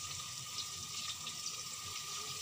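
Half a cup of water pours into a cooking pot while making a potato and eggplant gravy, a soft, steady splashing stream heard up close with no talking.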